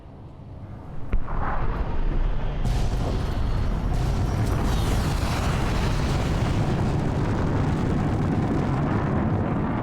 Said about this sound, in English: Launch the nuclear missile.